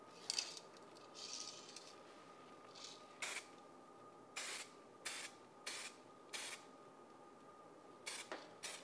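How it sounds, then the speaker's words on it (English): An aerosol can of Crystal Clear Glaze sprays onto an artificial fish replica in a series of short, sharp hissing bursts, about eight in all, close by against a quiet room with no voices. "one of the things that you'll notice with the Crystal Clear Glaze or other aerosols is they like to dry spray"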